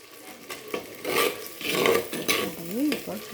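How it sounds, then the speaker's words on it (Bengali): Spice paste of garlic, tomato, pepper, cardamom, clove, cinnamon, cumin and coriander stirred and fried in a pan, with a run of close scraping strokes and soft sizzling. "দিয়ে এরপর কিছুক্ষণ নেড়ে কষিয়ে নেব ভালো করে"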